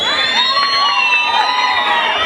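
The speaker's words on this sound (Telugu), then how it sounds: "ఒకసారి గట్టిగా విజిల్స్ చప్పట్లో" A crowd at a stage dance performance cheers loudly and continuously, with high shrill whistles and excited shouts merging into one dense, close roar.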